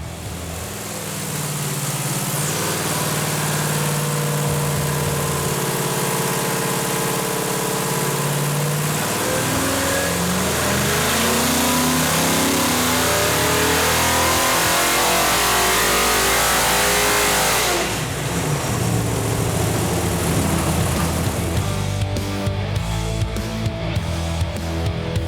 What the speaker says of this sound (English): We put our Motown LS on the dyno, we broke it in, gave it a few partial pulls